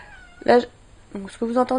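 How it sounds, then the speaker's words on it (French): Several meows from the speaker's cat Lilou, one drawn-out cry early on and then a run of three close, insistent meows, heard near and loud with someone speaking around them. "elle miaule comme ça"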